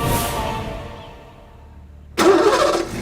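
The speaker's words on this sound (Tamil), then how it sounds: "வலது காலில் ஆக்சிலேட்டர் அழுத்து வண்டி நல்லா ஸ்பீடா போகும்" Car engine cranking and catching after a quiet pause, then running loudly at a steady idle close by.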